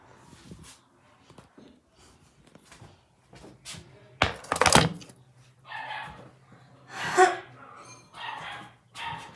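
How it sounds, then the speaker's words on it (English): A dog gives several sharp barks and yips at uneven intervals, fairly close and moderately loud, with softer scuffing and a possible door sound between them in a quiet indoor space. "Here's the dog."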